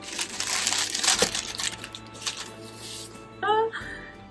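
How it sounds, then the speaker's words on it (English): Plastic treat wrapper crinkling and crushing as it is opened by hand, a sustained close rustle with bursts of crackle, then a brief squeaky tonal sound near the end. "Sorry for the crinkling."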